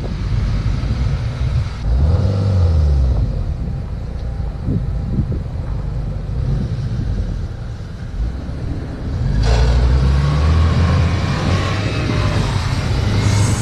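An off-road vehicle, likely a Niva or UAZ, pushes through deep water, with a steady engine drone and low rumble, then a louder surge of engine and splashing toward the end.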